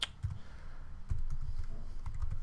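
Fingers type an IPv4 address on a PC computer keyboard, making light, scattered key clicks that stay quiet and close.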